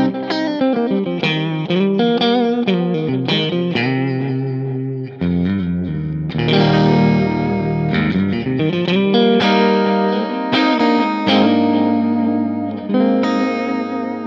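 Electric guitar played through a Helix chorus-tremolo preset, a modulated, shimmering tone with strummed chords and single notes ringing out loud and alone, the sustained notes wavering with pulsing volume.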